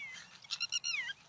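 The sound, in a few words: bird calling near its nest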